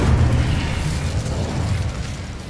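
An Incendio fire spell cast in a Hogwarts video game gives a loud, steady whooshing roar of fiery noise heavy in the low end, continuous for a couple of seconds without pause.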